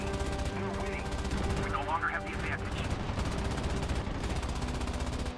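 Rapid machine gun bursts from aircraft gunners in the War Thunder video game rattle over a steady engine drone, with someone talking throughout.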